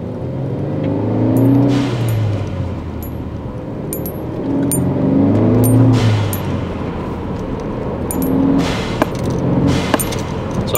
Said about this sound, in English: So I'm gonna cruise here for a little bit and make the blow-off valve go off.